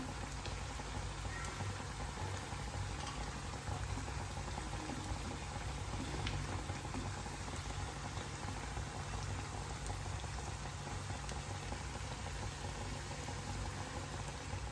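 Potato vadas deep-frying in hot oil give a steady, dense sizzle and bubbling crackle that runs unbroken and fairly close, with no voices over it.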